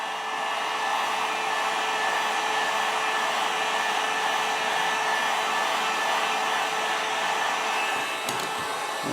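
Heat gun blowing hot air onto the slits of a Mora Classic knife sheath, a constant loud, close whooshing roar with no break and no voices.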